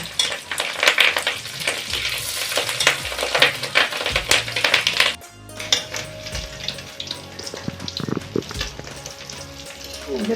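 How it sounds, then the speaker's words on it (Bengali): Rohu fish roe frying in a pan until browned, with a steady loud sizzle throughout, spatula scrapes and metal clinks as the pieces are turned over. "এখন আমি সবগুলো উল্টিয়ে দেব এবং ওই কিছু আমি এমন লাল করে ভেজে নেব"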